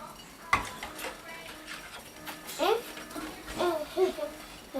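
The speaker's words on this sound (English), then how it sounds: "We stir a little bit." A spoon knocks and scrapes lightly against a bowl while bread dough ingredients, including sugar, are stirred for pitta bread, with several soft taps under a voice talking nearby.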